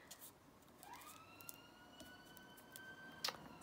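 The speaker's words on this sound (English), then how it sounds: "there's now a siren going past" An emergency vehicle siren passes at a distance, its rising and falling wail faint and steady behind a quiet indoor room where crafting with hot glue and playing cards goes on.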